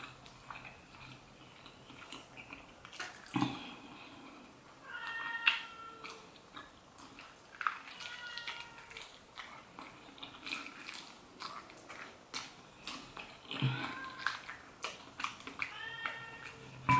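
An indoor cat meows repeatedly in short, rising calls scattered through a quiet room, moderately faint and with no one speaking.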